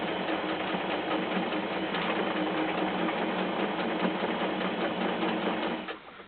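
A sewing machine stitches fabric for an Easter bunny in a fast, continuous mechanical whir that runs steadily, then slows and stops near the end.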